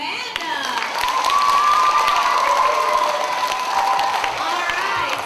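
A school audience at Anderson Elementary in Trenton, Michigan, applauds and cheers for two young volunteers at a Brainstormers show, with a sustained burst of clapping and excited children's shouts over a lively crowd.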